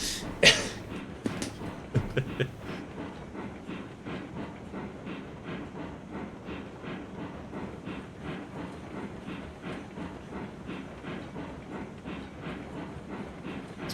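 A steam locomotive coasts without power in the railway game Railroads Online, with a steady rhythmic clickety-clack of wheels on track and a few louder chuffs or hisses near the start.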